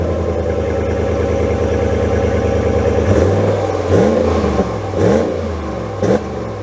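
A 2023 Ram Rebel pickup truck idles with a steady rumble, then its engine blips and revs in several short bursts, loud and close, each climbing and quickly falling back.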